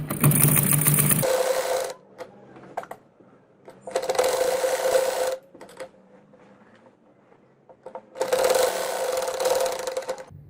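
A sewing machine stitches a boat neckline onto a shirt, running in three loud bursts of steady whirring separated by quiet pauses with faint handling noise.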